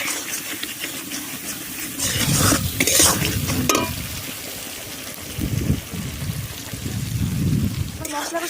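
A chicken curry spice paste of garlic, ginger, turmeric and salt fries in a pan while being stirred, bursts of scraping and sizzling rising and falling in uneven waves, close by, with a voice heard briefly.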